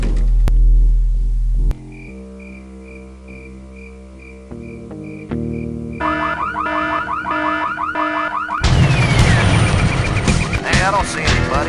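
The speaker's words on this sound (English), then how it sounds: "But set off the alarm." A car alarm in the Full Throttle video game blares loudly and continuously, cycling through changing siren patterns and warbling electronic tones that grow denser and harsher toward the end, with no talk over it.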